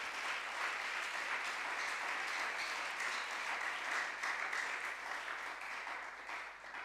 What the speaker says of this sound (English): Please give the teachers here a round of applause.